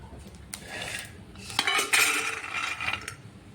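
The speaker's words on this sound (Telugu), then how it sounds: "గింజలన్నీ వేగిన తర్వాత వీటిని ఒక ప్లేట్లోకి సపరేట్ చేసుకోవాలి" Roasted bitter gourd seeds are moved from a pan onto a plate. A utensil scrapes and clinks against the metal cookware, close up, in a rapid cluster of rattling strokes without talk.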